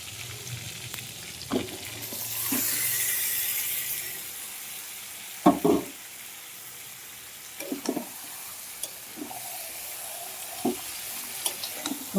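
Meat and tomatoes fry gently in a pan, a soft, steady sizzle broken by scattered scraping knocks of a spoon against the pan, close but fairly quiet, with no talking.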